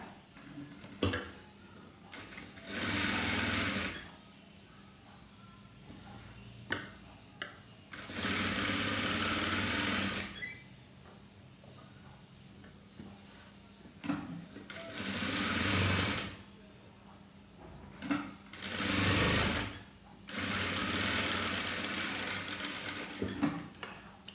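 A sewing machine stitches thread piping in several loud, steady whirring runs of a few seconds each. Quieter pauses with small handling clicks separate the runs.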